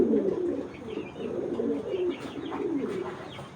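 High-flyer Giribaz pigeons coo in rolling, repeated murmurs close by, with light chirps mixed in and no talking.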